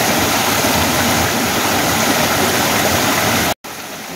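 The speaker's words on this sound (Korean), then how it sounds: "물소리가 너무 아름답죠." Loud, close rushing water from a mountain stream on a hillside herb-gathering hike fills the sound with a constant broadband roar, briefly cut off near the end before resuming slightly softer.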